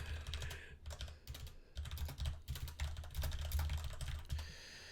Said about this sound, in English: You can hear my furious typing here as I'm talking to Zwicon.